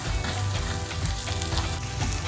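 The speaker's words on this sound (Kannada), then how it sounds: "ಹಾಗಾಗಿ ನಾನು ಒಟ್ಟಿಗೆ ಫ್ರೈ ಮಾಡ್ಕೊಂಡಿರ್ತೇನೆ" Food for chole bhature frying in a pan, a steady dense sizzle and crackle with low stirring bumps, loud and close throughout with no talk.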